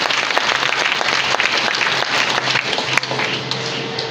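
Audience clapping at a direct selling team seminar, a dense steady patter of many hands sustained throughout with a faint low hum beneath and a brief sharp accent near the end.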